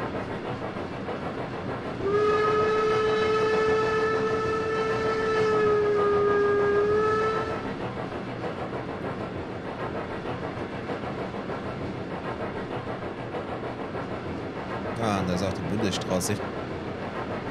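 A steam locomotive on the Brockenbahn in Trainz 22 gives a long, loud, steady whistle blast of about five seconds over a low running rumble, followed later by a short hissing burst of steam, with a voice speaking briefly.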